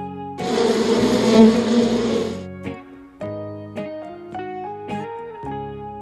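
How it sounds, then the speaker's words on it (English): A bee buzzing loudly and close for about two seconds, a dense droning hum, followed by light melodic music notes. "Bee."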